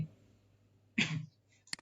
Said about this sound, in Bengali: সরি আমার একটু কাশি হচ্ছে আর কি